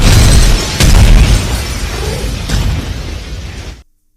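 A restaurant is blown up in a loud explosion, with a heavy low boom, crackling debris and a second burst, fading over several seconds before cutting to silence.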